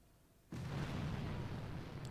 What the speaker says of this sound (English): dropping 1 more artillery